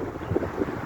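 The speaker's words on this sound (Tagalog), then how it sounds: "Talagang mahangin, napaka-presko." Wind buffets the microphone in Zabeel Park, Dubai, a steady low rumble with soft gusts throughout and no voices.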